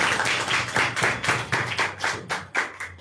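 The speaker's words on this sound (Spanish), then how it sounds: "Fuerte las palmas para todos." Family members at a mariachi serenade clap in a steady, rhythmic beat, about four claps per second, close and moderately loud with no talk over it.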